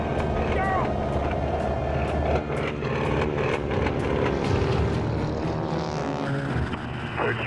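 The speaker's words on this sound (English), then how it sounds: "the Stearman's engine sputters." A Stearman biplane's radial engine runs with an uneven, stuttering drone at an airshow, with repeated sharp pulses and ticks over a steady rumble, close and prominent under talk.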